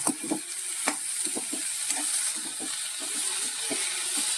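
Cooked prawns are mixed into an onion-stalk thoran in a pan, giving repeated light scraping and tapping strokes of a spoon over a steady sizzle, close and fairly quiet.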